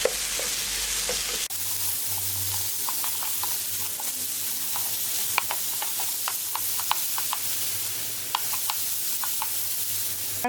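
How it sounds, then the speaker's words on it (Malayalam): Banana pieces sauté in a pan for a bread and banana snack, a steady loud frying hiss running throughout with many sharp crackles and light spoon taps scattered across it. "പഴം നിറം മാറുന്നവരൊന്ന് നന്നായിട്ടൊന്ന് വഴറ്റിയെടുക്കാം"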